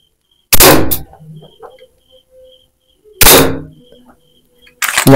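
An E&C OPS MRP Hi-Capa gas blowback airsoft pistol loaded with steel BBs fires three loud, sharp shots a few seconds apart. Each crack comes close and is followed by a short mechanical rattle and quiet clicks in the gaps.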